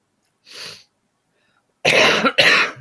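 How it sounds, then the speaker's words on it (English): A person who is sick lets out two harsh, loud coughs close to the microphone after a short, softer breathy sound, with silence between them. "when I start talking, I start coughing"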